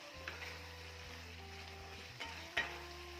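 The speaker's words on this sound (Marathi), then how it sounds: "जे बटाटे फ्राय करून घेतलेले आहेत जे परतून घेतलेले आहेत ते यामध्ये घालायचे आणि चांगले मिक्स करायचे" Fried potatoes are stirred into a simmering gravy in a pan, a soft sizzle with faint scraping and a couple of small clinks over a low steady hum, quiet and close.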